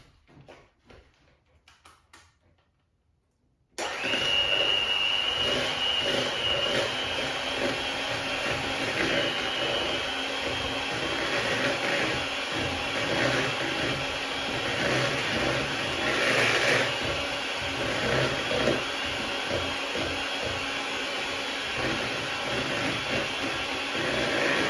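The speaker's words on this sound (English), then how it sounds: "I'm going to use that electric mixer and I'm going to beat them together on a medium speed" An electric mixer beats no-bake cheesecake ingredients at medium speed, switching on abruptly after a quiet moment and then whirring loudly and steadily with a high motor whine for about twenty seconds.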